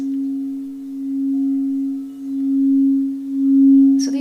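A pure, steady sine-like tone, the 7.83 Hz Earth frequency raised into an audible octave, hums loud and alone with a gentle swell and fade, ending in a brief click.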